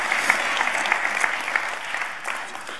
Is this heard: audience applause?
yes